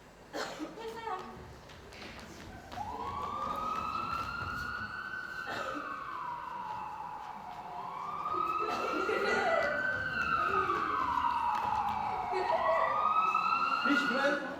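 An ambulance siren wails in long rising and falling sweeps, fairly loud and sustained across most of the stretch, with brief bangs and some background voices underneath.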